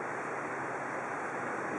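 Flood water rolls against a garage at the foot of a downhill driveway during a 2011 Jersey Shore flood, a steady, unbroken rushing wash with no voices.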